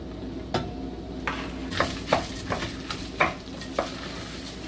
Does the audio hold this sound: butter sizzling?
yes